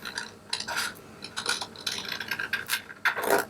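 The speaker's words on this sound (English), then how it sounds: "So I'm just going to cut it out of the transparency film." Scissors cut out a printed image from clear transparency film, making close, crisp snips and crinkly, plasticky rustles in uneven bursts.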